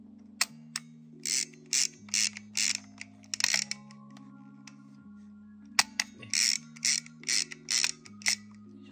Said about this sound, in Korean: 그 다음으로 해주셔야 될 게 필름을 감아서